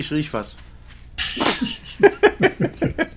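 A single loud, sharp sneeze bursts out midway, preceded by a short spoken remark and followed by more talking in German, all close to the microphone.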